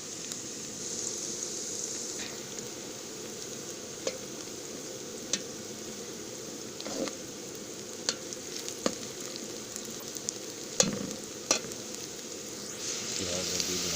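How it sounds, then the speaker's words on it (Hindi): Onions browning in a pan give a soft, constant low sizzle, with scattered light taps and scrapes of stirring now and then. "अभी हम प्याज को ब्राउन करेंगे"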